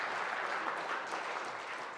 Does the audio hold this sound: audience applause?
yes